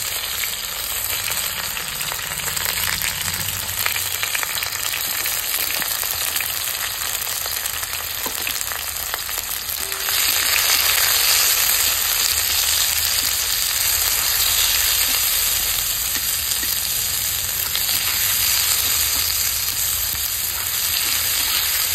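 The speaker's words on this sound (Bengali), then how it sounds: "পেঁয়াজটা অল্প হালকা করে ভেজে নেব, বেশি ভাজবো না" Onions fry lightly in a pan for a lentil chorchori, a steady bright sizzle throughout that grows louder partway through, close with no talking.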